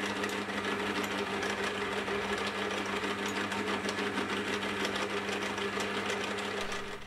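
A metal lathe cutting steel stock to length and center drilling its end, running with a steady, dense mechanical whir and a constant hum that continues without pause at close range, with no talking.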